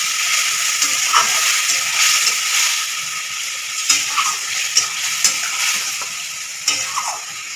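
Chicken kosha with gravy and a splash of water fries loudly in a pan over high heat, with a strong continuous sizzle and hiss and repeated scraping stirs close up.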